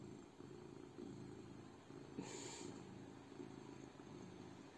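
A large cat purrs steadily and close, a continuous low rumbling throb with faint background hum and a brief brighter hiss partway through.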